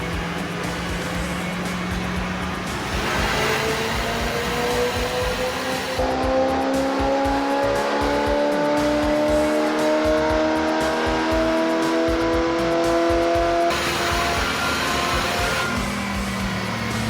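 1990s Pontiac Trans Am engine on a dyno pull, a loud steady roar climbing in pitch as the revs rise, holding high, then dropping back toward idle at the end.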